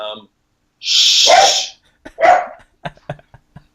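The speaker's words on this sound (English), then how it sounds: "It's my dog." A dog lets out a loud, drawn-out bark up close, then a second sharp bark, followed by a string of shorter snorts and yips that fade off.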